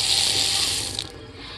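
Hot water runs from a tap fed by a Truma tankless water heater in a 2021 Isata 5 28ss motorhome, a close, steady hiss that tails off after about a second.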